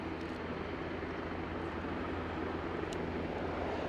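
Aircraft at Aberdeen airport on final approach, heard as a steady, broad engine roar that holds at an even level throughout, fairly distant, with no voices.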